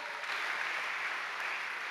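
A church congregation claps together during a worship service, a dense, even spatter of hands that sounds somewhat distant and soft, with no voices over it.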